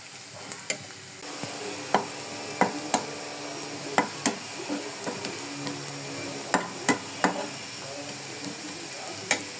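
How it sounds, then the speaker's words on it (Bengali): Onions fry in a pan for chicken korma with a continuous soft sizzle, punctuated by a dozen or so sharp spatula clicks and scrapes at an uneven rhythm, close and with no talking. "পেঁয়াজগুলোকে এখন ভেজে নেব।"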